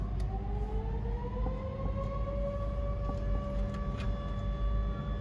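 A wailing siren, likely a test, rises and holds steady in the distance over a constant low rumble of nearby machinery at an electric-car supercharging stop.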